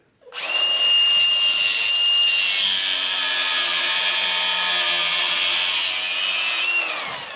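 A power saw cuts through wooden brackets with a loud, close, sustained whine and grinding rasp. It starts abruptly and runs for several seconds before tapering off.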